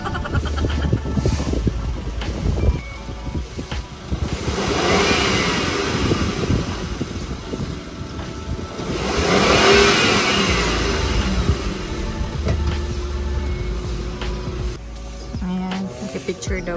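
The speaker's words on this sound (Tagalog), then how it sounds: "So ayan po, dadalhin na po yung sasakyan dun sa labasa namin." A car's engine runs and revs as it is driven out, a close mid-pitched drone that swells into a louder rev midway, then settles, with people talking nearby.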